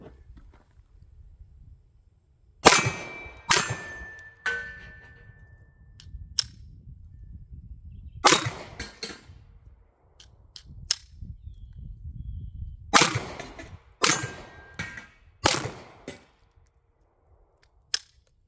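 Girsan MC P35 PI pistol, a Browning Hi-Power clone, fired outdoors in sharp loud single shots and quick pairs separated by pauses, with a faint background hum.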